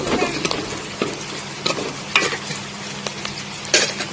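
Onions frying in a pan, a steady sizzle with scattered sharper crackles and stirring scrapes at irregular intervals, close by with no talking.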